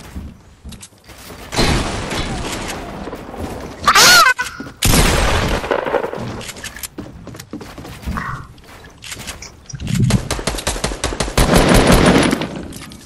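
Bursts of rapid video game gunfire rattle loudly in clusters, with a heavy boom near the middle and long automatic strings later, separated by quieter gaps where a player talks.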